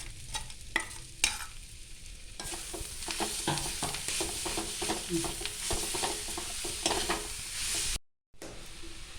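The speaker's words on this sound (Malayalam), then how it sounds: "നമുക്ക് ഇഞ്ചി, വെളുത്തുള്ളി എല്ലാം കൂടെ അടിച്ച് വെച്ച് ഇതിനകത്ത് കിട്ടുന്ന പച്ചമണം മാറ്റാം." Ground ginger and garlic paste fry in a pan, crackling and sizzling steadily while a spoon scrapes and taps against the pan in irregular strokes, close up with no speech, before the sound briefly cuts out near the end.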